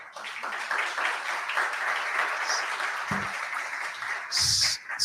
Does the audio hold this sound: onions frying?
no